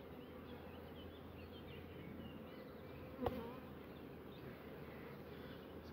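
Honeybees flying around a brood frame lifted from the hive, a faint continuous buzzing hum with one short sharp knock partway through.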